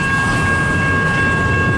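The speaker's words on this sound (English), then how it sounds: "The train is going slow." A CN freight train with double-stack cars rolls slowly past at night in Richmond, Michigan, giving a loud steady rumble with a constant high tonal whine and no voices.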